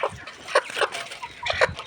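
A sick chicken with a closed, watery eye gives a run of short clucks, close and fairly clear, with no talking.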